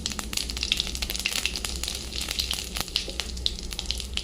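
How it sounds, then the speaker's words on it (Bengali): Cumin seeds, dried red chilli and asafoetida splutter in hot oil in a kadai, producing a busy, close sizzle full of quick pops and crackles from start to end, with no voices. "দেবো জিরে ফোড়ন, শুকনো লঙ্কা ফোড়ন, আর দেবো একটু হিং ফোড়ন।"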